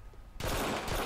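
Gunfire in the video game GTA IV bursts in suddenly after a quiet start, a loud continuous rattle of rapid shots that lasts to the end.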